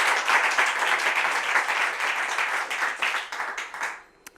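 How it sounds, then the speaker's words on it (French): Audience applause during a Bible quiz, a short burst of dense, lively clapping that tapers off and stops abruptly after about four seconds. "On peut applaudir sûrement"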